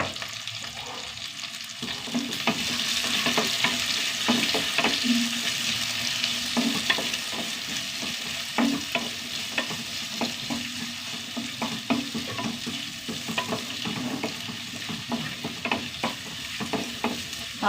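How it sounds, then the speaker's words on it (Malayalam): Onions and green chilli sauté in a hot pan with a continuous close sizzle, while a spatula stirs and scrapes against the pan in repeated light knocks. "ഒന്ന് വഴണ്ട് വരട്ടെ ഉള്ളി വഴണ്ട് വന്നു"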